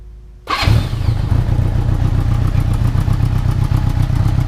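A 1978 Honda Goldwing motorcycle engine cold-starts on choke after a brief quiet moment, catching suddenly and settling into a loud, steady, close idle with a throbbing low rumble and light mechanical clatter.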